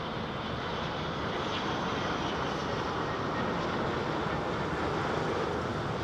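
An Etihad Airbus A380 at London Heathrow fills the air with a dense, continuous jet roar and faint whine, steady and fairly close, with no voices over it.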